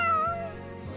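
A cat in the video game Tales of Xillia 2 lets out a single clear, drawn-out meow, close and loud, with no talking over it.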